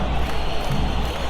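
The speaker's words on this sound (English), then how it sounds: "Crowd appreciates good football all round there." Stadium crowd in a football simulation game at Estadio Nacional de Chile, Chile versus Jamaica, giving a steady broad roar of cheering that holds at an even level throughout, with no distinct voices rising above it.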